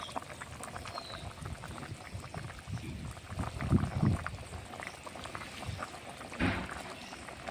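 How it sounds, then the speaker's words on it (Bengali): Fish curry with vegetable stalks bubbles steadily in a pot as fried fish pieces drop in, giving a few soft plops and splashes over the constant low simmer. "ভেজে রাখা মাছগুলো এখন দিয়ে দেবো।"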